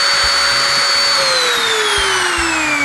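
A Hasston ART3105 electric trimmer runs with no load, giving a loud, steady high-pitched motor whine with a bright buzzy drone that dips slightly in pitch, continuous and close throughout.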